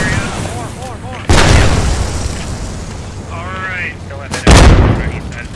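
Loud gunfire and explosive blasts ring out during a Post Scriptum World War II battle at the Arnhem bridge, two heavy bursts standing out over a continuous rumble of combat while players talk excitedly.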